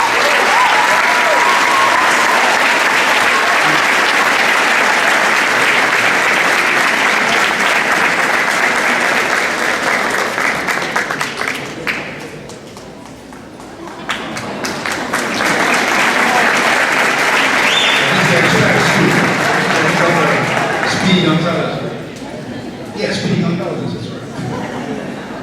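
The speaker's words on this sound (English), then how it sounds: "Please give a big round of applause to John Gonzalez." Sustained applause from an audience at a fall sports awards ceremony, dense clapping that dips briefly midway before resuming, with scattered chuckles and murmuring voices in the crowd.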